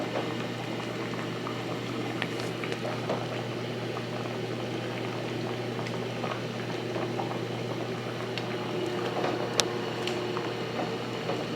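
Gravy for smothered fried chicken simmering in a pan, a steady close bubbling with scattered small pops and crackles over a constant low hum, no voices heard.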